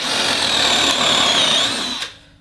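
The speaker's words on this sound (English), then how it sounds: "I got my holes kind of pre-drilled" A power drill bores a hole in homemade weight plates, whining loudly and steadily for about two seconds before stopping abruptly.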